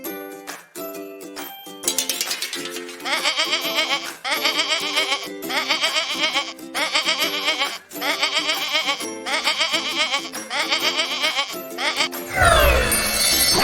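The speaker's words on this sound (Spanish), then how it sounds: "Cabra." A goat bleats again and again in a children's cartoon about animal names, loud, wavering cries coming in a steady run of repeated calls.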